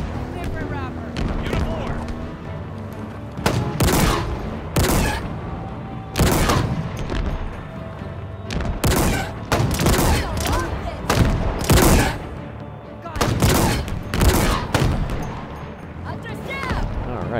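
Heavy gunfire and loud booming blasts from a Halo Infinite firefight, repeated bursts of shots and explosions close up over a continuous game soundtrack, with speech faintly present in the mix.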